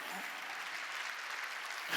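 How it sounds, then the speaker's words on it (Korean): Congregation clapping at a church Sunday worship service, a steady, even wash of applause held at moderate distance for the whole stretch, with no clear voices above it. "박수 이거예요 이거."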